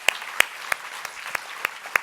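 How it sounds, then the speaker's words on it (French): Scattered handclaps from an audience at a school award ceremony honouring three students, sparse and fairly faint, with about seven distinct claps spread evenly across a short span. "Je pense qu'on peut les applaudir encore une fois."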